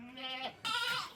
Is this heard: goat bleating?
yes